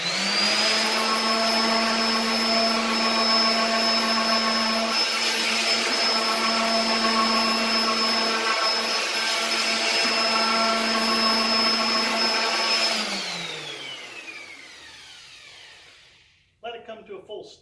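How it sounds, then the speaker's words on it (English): Palm sander fitted with 120 grit sandpaper smoothing wood, a loud steady motor whine with a constant buzzing hum that winds down near the end, followed by a brief clatter. "I got my palm sander and I have 120 grit sandpaper on it to really smooth everything out."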